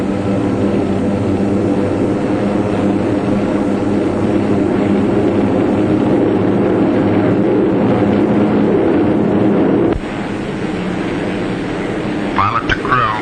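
Bomber engines droning in flight, a steady, loud, continuous roar with a deep rumble that fills the whole stretch and drops slightly near the end, with no pauses.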